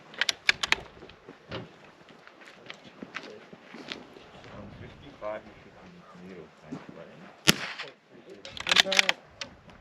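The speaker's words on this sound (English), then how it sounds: "the shooter will engage the targets from large to small with 1 shot each" Sharp rimfire .22 rifle shots crack at intervals during an outdoor NRL22 rimfire shooting match, with clattering handling noises and footsteps between them and people talking at times.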